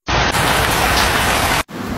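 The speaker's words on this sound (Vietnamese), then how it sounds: "Ồ, mưa kìa, mới nói là trời mưa rồi." A heavy burst of rain pours down in a steady, loud hiss that fills the whole clip, then cuts off sharply just before the end, leaving only a fainter wash of noise.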